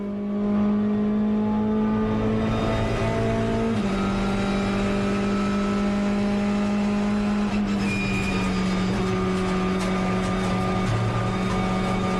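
Hyundai i30 TCR race car racing at Sydney Motorsport Park, a loud sustained engine drone at high revs with a pitch drop as it shifts, then revving on through the lap.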